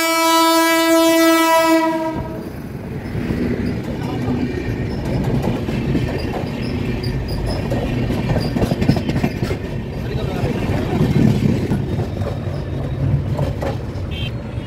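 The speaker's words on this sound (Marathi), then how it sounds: "पहा समोरून एक्सप्रेस येते." An express train crosses the long Yamuna railway bridge at Prayagraj. A loud horn blast opens, then a heavy rumble and clattering wheels roll past continuously.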